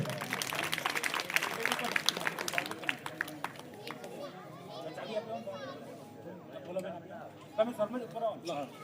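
An audience at a Shiv Katha religious gathering in Valsad claps loudly for a guest called to the stage. The dense burst of applause lasts a few seconds, then thins into chatter and voices.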